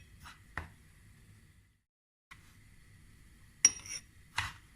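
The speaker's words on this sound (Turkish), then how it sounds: "Fazla dökülmemesi için saklama kabımdan bardağa kaşıkla ilave ediyorum" Metal spoon scooping fine bulgur out of a storage container into a drinking glass, a few faint, sparse clinks and scrapes with quiet pauses in a kitchen.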